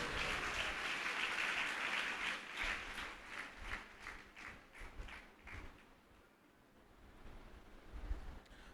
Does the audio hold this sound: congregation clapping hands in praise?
yes